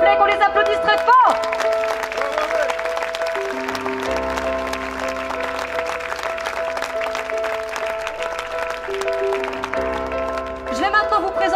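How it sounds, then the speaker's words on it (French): A concert audience at a château claps loudly for honored guests, sustained applause with a steady hum and music-like tones running beneath it, swelling again at the end. "Je vous demande s'il vous plaît qu'on les applaudisse très fort"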